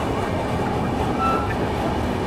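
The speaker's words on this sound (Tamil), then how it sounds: "நம்மளுடைய ட்ரெயின் இப்போ பார்த்தீங்கன்னா குப்பம் ஸ்டேஷன்லேருந்து டிபார்ட் ஆயிடுச்சுங்க." A train pulls out of Kuppam station on the Chennai Central to KSR Bangalore route, heard from inside as a loud, steady rumble and rattle of rolling carriages with no talk.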